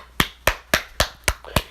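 Six sharp hand claps at an even, steady pace, each crisp and close with a quick decay, alone with no other sound.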